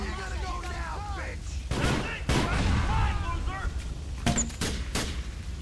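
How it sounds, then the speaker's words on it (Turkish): Grenade launcher blasts in a shootout in the game GTA The Lost and Damned, several loud booming shots and bursts of gunfire spread through the clip, with someone speaking in the gaps between them. "isterseniz birinin verdiği bu bomba atan silahla devam edin"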